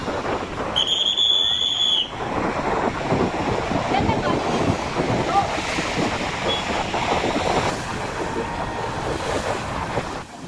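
Rough ocean surf crashing onto the beach at Digha in daytime, a loud continuous roar of breaking waves with heavy wind buffeting the microphone and a brief high electronic tone near the start.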